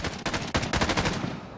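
Rapid automatic gunfire from Call of Duty: Modern Warfare Warzone rattles out as one continuous, close burst of evenly spaced shots.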